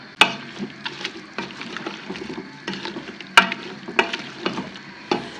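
Meat and potatoes with tomatoes, chilies and coriander frying in a pot, with a soft sizzle underneath and sharp repeated clinks of a spoon scraping and stirring at irregular intervals, close by.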